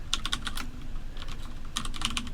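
Fingers tapping keys on a computer keyboard in short bursts of quick clicks, separated by a brief pause, close and clear with no talking.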